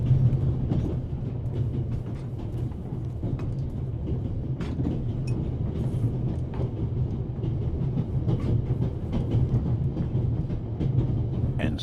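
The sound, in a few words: train running on tracks, from a video game (The Raven Remastered)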